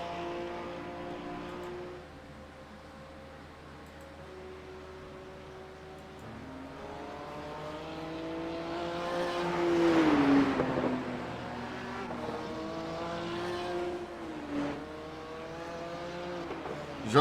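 GT3 race cars lapping the Nürburgring Nordschleife, with a struggling Porsche among them, engines droning and shifting pitch up and down as they pass, swelling loudest midway through under steady background noise.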